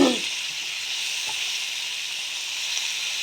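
Vegetables seasoned with turmeric and salt fry in a pan with a steady, close sizzling hiss that begins with a brief louder burst and then holds evenly throughout, no voices.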